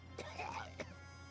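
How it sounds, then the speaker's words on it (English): A character coughs in the Dragon Ball Z: Kakarot game, with two short rough bursts over a steady low game hum. Talk is audible alongside. "That's a nasty ass cough"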